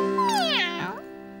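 A cartoon ship's cat meows twice in a children's animated episode, a clear rising-then-falling call followed by a shorter second meow, close and alone over a faint steady background tone.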